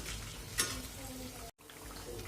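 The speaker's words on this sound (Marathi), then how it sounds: "वडे तळताना हे कमी गॅसवर तळायचे आहे" Vadas fry in oil over low gas with a soft, quiet sizzle, a brief louder crackle near the start, and a moment of silence partway through.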